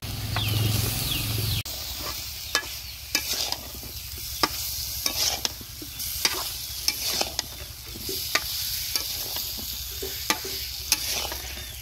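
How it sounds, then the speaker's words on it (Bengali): Chicken and bottle gourd sizzle steadily in a hot pan while a spoon stirs them, scraping and knocking against the metal in a loose, repeated rhythm, close and clear. "মাংস কষিয়ে নিয়েছি এখন লাউটা দিয়ে দিব"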